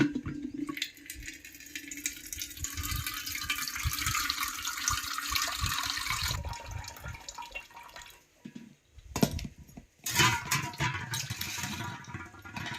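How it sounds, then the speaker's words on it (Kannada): Tap water runs over soaked, sprouted lentils being washed for dosa batter, a close splashing flow with dripping and handling noises that pauses briefly before resuming. "1-2 ಸಲ ಚಲೋ ತಂಗಿ ಸ್ವಲ್ಪ ತೊಳಿಬೇಕು ಇವನ್ನ."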